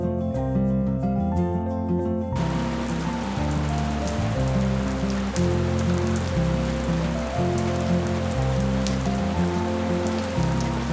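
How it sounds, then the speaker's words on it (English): Steady rain falls over a reservoir in the Ghats, a dense even hiss of drops on the water and surroundings, with low, sustained music playing underneath throughout. "It's such a relief that the rains have come back to the Ghats."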